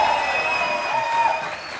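Audience applause after a dance performance on a TV talk show, dense steady clapping with crowd noise running throughout, loud and close, fading slightly at the end.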